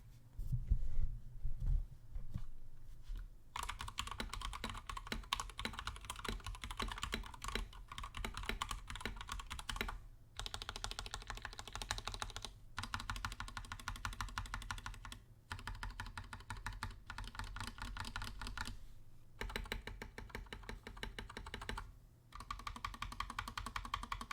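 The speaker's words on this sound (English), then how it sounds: "Okay, now here is the Matrix keyboard." Continuous clicky typing on a Razer Huntsman Mini mechanical keyboard with purple switches, a dense steady stream of keystrokes with a few brief pauses, close and fairly loud, no voices.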